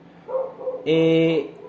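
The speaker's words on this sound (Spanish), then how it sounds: "mis perros, están ladrando en este momento" Two or three dogs bark loudly nearby in quick bursts, a short yelp followed by a sustained, harsh howling bark.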